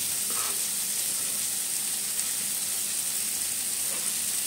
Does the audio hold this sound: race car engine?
no